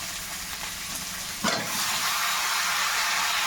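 Tangra fish curry with eggplant frying in a pan, a steady broadband sizzle with a brief scrape of stirring around the middle, close and constant throughout, no voices.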